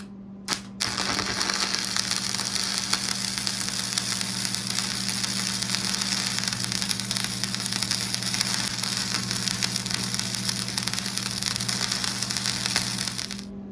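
Stick welding on heavy steel at 120 amps during log splitter repair: a steady, loud crackling buzz with a constant electrical hum runs unbroken for about thirteen seconds after a brief start.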